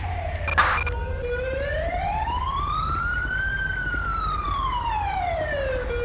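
A police siren in the video game GTA 5 wails steadily, rising and falling in a long slow sweep, loud and close, with a brief clatter near the start.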